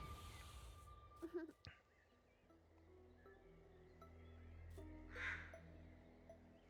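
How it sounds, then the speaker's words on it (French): A crow caws in the video game Little Misfortune, a few harsh calls rising briefly over a low droning game soundtrack and faint rustling, moderately near. "Le corbeau il a pas un regard normal avec ses gros yeux rouges"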